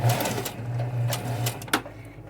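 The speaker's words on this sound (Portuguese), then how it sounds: "Uma costura de canto. Toda costura no início vai o retrocesso." A sewing machine stitches a corner seam, starting with a backstitch, its motor giving a steady close hum with a short click near the end.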